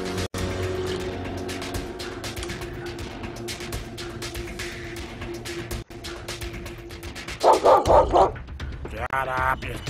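A dog barks in a short burst of several rapid loud barks near the end, followed by a whimpering yelp, after a long stretch of steady background hum.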